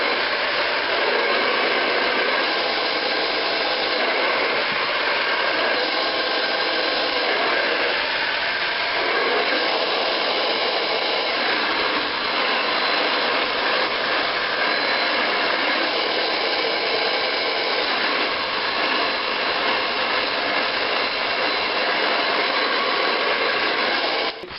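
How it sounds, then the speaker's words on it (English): A hair dryer fitted with a thin nozzle blows hair dry, a loud, steady whooshing roar that runs without a break, with slight shifts as the airflow moves through the hair. "A hairdryer with preferably a thin nozzle."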